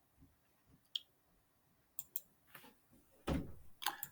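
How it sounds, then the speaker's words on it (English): Calculator keys tapped while working out atmospheric pressure, a scatter of light plastic clicks that grow into a quicker burst of presses toward the end, close and fairly quiet. "just by typing this in the calculator"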